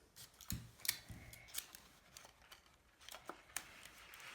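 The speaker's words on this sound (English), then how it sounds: "I am taping wire." Wire is taped down inside a star shadow box, with sharp, quiet crinkles and small snips of tape at irregular intervals, close by and faint.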